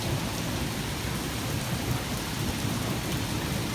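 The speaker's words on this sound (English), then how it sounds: "It's raining super duper hard too." Heavy rain pours down steadily in a strong storm with pea-size hail and non-stop lightning, a dense unbroken roar with thunder rumbling low underneath, close and loud throughout.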